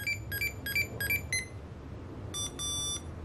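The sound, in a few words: Tamagotchi toy beeping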